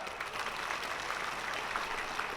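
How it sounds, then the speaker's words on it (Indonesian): Steady audience applause at the closing ceremony of the 41st Bali Arts Festival (Pesta Kesenian Bali) in 2019, during the governor's speech; a dense, even wash of clapping held throughout with no talk. "Tepuk tangan."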